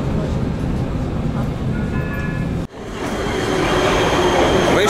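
A Prague subway metro train rumbling loudly and steadily, with faint wheel squeal, a brief sharp drop partway through, then continued broadband rolling noise with no clear speech.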